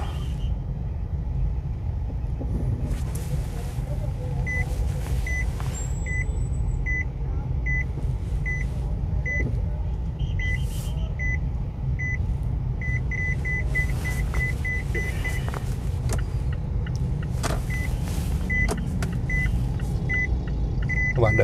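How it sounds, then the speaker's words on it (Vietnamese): Short electronic beeps repeat in a steady series over the low rumble of idling and crawling cars in a traffic jam with no traffic police present, a guard helping out; the tones sound more like a reversing or warning beeper than horns. "Các bạn bắt đầu nghe tiếng còi tít tít đó."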